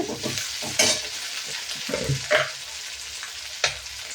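Tomatoes drop into softened onions frying in oil for a pepper-garlic kuzhambu. A steady sizzle runs under soft clattering stirs, with a few sharper scrapes of the spoon against the pan, close and without speech.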